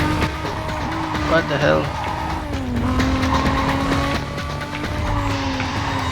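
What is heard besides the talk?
Toyota Supra racing, tires squealing, Need for Speed: Carbon video game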